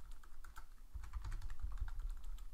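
Rapid, fairly quiet clicking of keys on a computer keyboard, close and uneven in rhythm, with no voices.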